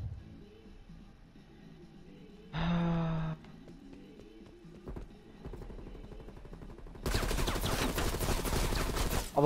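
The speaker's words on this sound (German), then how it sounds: "Aber hörst du unsere Schüsse?" Gunfire from the video game Call of Duty Black Ops Cold War: a short loud burst of shots, then a longer sustained volley of rapid automatic fire near the end, over a low game ambience.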